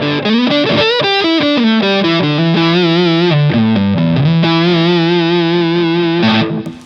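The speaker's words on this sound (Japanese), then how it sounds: "これ PAB ってやつ、これは単純に歪みが増しますね。" Electric guitar played through an LPD Pedals PAB distortion pedal, with loud, sustained, heavily driven chords and sliding bends ringing continuously before cutting off at the end, no talking.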